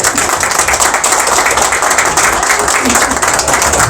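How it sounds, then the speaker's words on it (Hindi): Vigorous applause fills the room at a corporate Women's Day event as a presenter is welcomed, a loud, dense, continuous clatter of many hands clapping close by, steady for four seconds. "तालियों में कोई कमी नहीं होनी चाहिए"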